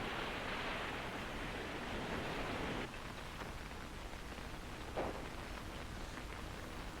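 Rain in a cartoon hisses in a dense, even wash that eases slightly partway through, with faint scattered splashes and no talking.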